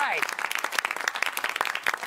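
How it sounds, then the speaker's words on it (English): A television studio audience claps in a brief, dense burst of applause while a host's voice speaks over it. "Enough applause, I know."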